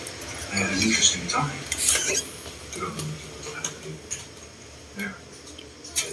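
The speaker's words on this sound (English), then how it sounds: "So I'm gonna get some fork and spoon." A fork and spoon are fetched, cutlery clinking and clattering against dishes in a series of light metallic taps, with murmured voices in the background.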